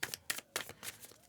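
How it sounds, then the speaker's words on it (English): Tarot cards are shuffled in a few quick riffling bursts, close and crisp, with no talking over them. "Let's make sure these are nicely shuffled,"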